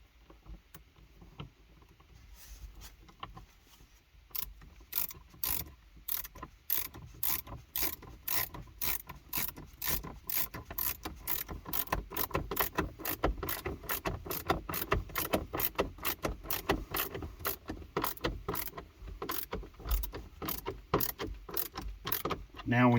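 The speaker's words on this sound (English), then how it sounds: "let me get at least one of these screws run in here a little bit" Screws are driven in while a sun visor is replaced in a 2012 Dodge Durango interior, producing a long run of rapid, even ratcheting clicks that grow steadier and slightly louder, close up and without talk.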